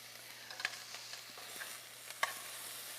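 Chicken sizzling in a frying pan while being stirred and turned over, a soft steady crackle broken by scraping and tapping from the utensil, with no talk.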